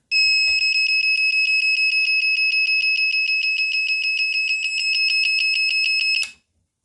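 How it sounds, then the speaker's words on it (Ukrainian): A faulty electric scooter controller gives a continuous, shrill electronic beep, a steady high-pitched tone sounding nonstop for about six seconds before cutting off abruptly, with faint clicks underneath. "Коротше, йому щось трапилось, він пищить."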